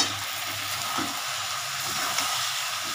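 Spiced winter vegetable curry of potato, cauliflower and peas sautéing in a pan, a steady close hiss and sizzle with soft stirring scrapes underneath.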